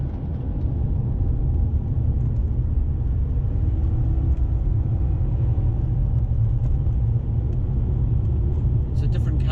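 A Toyota Celsior / Lexus LS400 (UCF10) V8 revs and accelerates as it kicks down climbing a hill, a loud, steady in-cabin engine rumble with road noise underneath.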